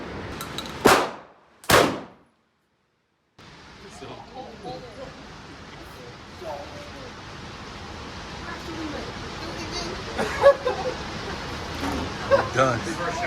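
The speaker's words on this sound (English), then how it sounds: "First shotgun round's always the best." Two loud, sharp shotgun blasts at an outdoor gun range ring out about a second apart, followed by silence and then distant outdoor noise with people talking.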